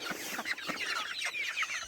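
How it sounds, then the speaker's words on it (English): Two farm turkeys make quick, close clucking and chirping calls in a rapid irregular series, fairly clear over a faint outdoor background with no talking. "There's our 2 turkeys."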